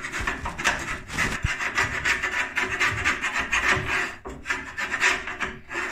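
Old paint is scraped off a radiator in quick rhythmic rasping strokes, close and fairly loud, with no voices over it.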